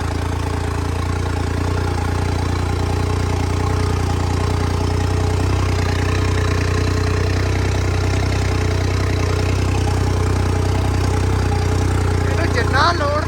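A Holland farm tractor's engine idles while warming up, a loud, close, unbroken rumble holding steady throughout.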